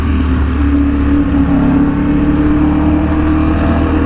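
Ducati Panigale V4R motorcycle engine running loud and close at a bike event, a steady deep rumbling drone with a slight rise in revs partway through, no talking.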